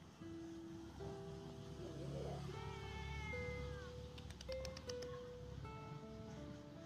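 Several stray cats meow in turn while being fed, close by, with drawn-out, wavering cries over a steady low rumble of background noise.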